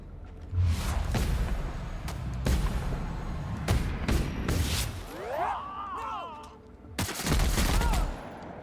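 Gunfire in the sci-fi shooter game The Outer Worlds, with sharp bursts of shots, a warbling energy-weapon whine in the middle and a final heavy volley, loud and close amid game effects.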